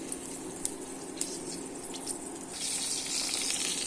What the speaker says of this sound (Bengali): তেলটা গরম হয়ে গেলে আমরা এই কালো জিরেটা